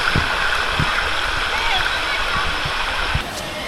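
A stream at the Sungai Tua forest recreation park near Kuala Lumpur flows with a steady rushing and burbling. Voices can be heard faintly over the water throughout.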